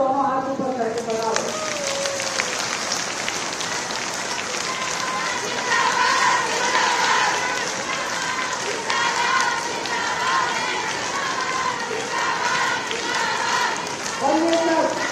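A large audience claps loudly and steadily at a Jaipur rally honouring the Chief Minister over women's reservation. The applause is sustained for many seconds, and a voice speaks through the start and again near the end.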